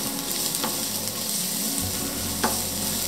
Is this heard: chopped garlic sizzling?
yes